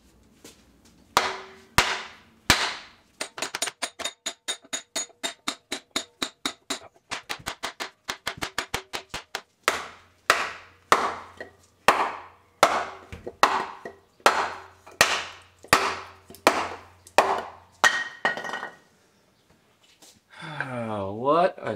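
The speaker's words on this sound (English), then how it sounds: "This is a leather mallet." A leather mallet strikes a stuck spindle on a 1960s milling machine, sharp knocks in rapid bursts and steady rhythmic runs, each blow crisp and close. A voice speaks briefly near the end.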